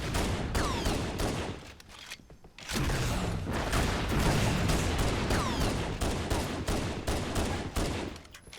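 Rapid bursts of gunfire from Halo: Combat Evolved Anniversary, loud and dense with repeated shots and a brief lull partway through, no talk over it.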